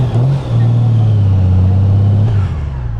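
A 2025 Honda Goldwing motorcycle pulls away on a test ride, its engine note rising into a smooth, loud, close drone that holds steady before easing slightly.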